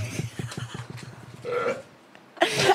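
A long, loud burp rumbles in pulsing vibrations during a beer-tasting session, followed by a brief voice and another sharp burst.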